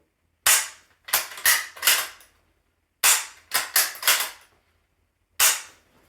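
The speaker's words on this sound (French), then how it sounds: "Tu peux venir cycler à partir de l'épaule." Mosin-Nagant 91/30 bolt-action rifle being cycled, heard as sharp, close metallic clacks in two quick clusters of four with gaps between, then one final snap, against near silence.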